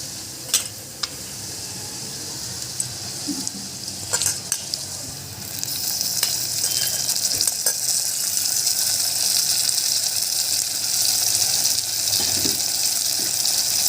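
Mutton goes into a pan of fried onions for a curry: a few sharp clicks and taps at first, then a loud, steady hiss of frying rising partway through and carrying on to the end.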